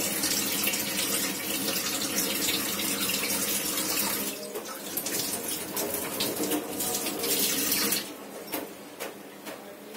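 Running kitchen tap water pours steadily while something is washed during home cooking, a continuous close hiss that eases slightly partway through, with no talk.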